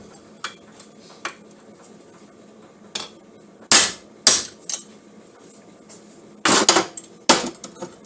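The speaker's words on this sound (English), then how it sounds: "Put this in a vise and smack it with a hammer." Loud metallic hammer blows ring out on a Kei truck suspension part held in a vise, a few heavy strikes spaced irregularly among smaller taps.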